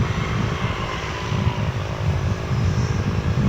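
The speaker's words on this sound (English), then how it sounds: "I hear but do not see a propeller plane, a cargo plane, which is nearby." A propeller cargo plane flies near DFW International Airport, giving a steady, loud droning roar with a low throbbing rumble that holds throughout without pause.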